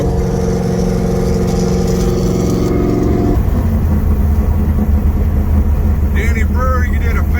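A 640-horsepower four-speed Dodge Charger engine roars loudly at full throttle, a steady rumbling drone that shifts pitch partway through as the car pulls hard, with wind and road noise filling in behind it.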